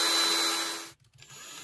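Power drill boring holes for eyelets in a wooden cuckoo clock birdhouse: a steady, fairly faint whirring buzz that stops abruptly, followed by quiet handling noise.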